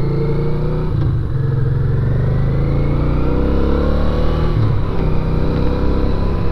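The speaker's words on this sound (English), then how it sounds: "Giving it a full amount of gas, this bike does not like it." A 1983 Honda Ascot VT V-twin motorcycle revs at full throttle with a carburetor struggling to take the gas, a loud, steady, close engine roar with a rough, clattery edge and small dips in pitch.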